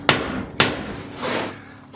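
Two sharp hammer blows drive a tight wooden peg through a mailbox joint, landing about half a second apart, close and loud with a woody knock, followed by a softer scuffing sound.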